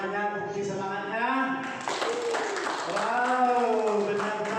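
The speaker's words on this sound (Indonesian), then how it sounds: "Coba saya minta tepuk tangannya, bukti semangatnya." Audience applause at an indoor business presentation event in North Jakarta, a steady wash of clapping that swells midway and carries on under overlapping voices and cheering.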